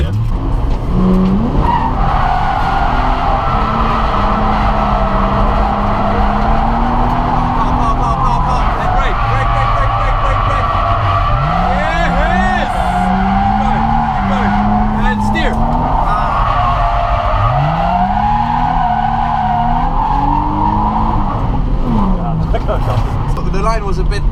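A Nissan 350Z drifting on a track, its engine droning and rising and falling as the tires squeal in long skids, loud and continuous, with voices talking over it.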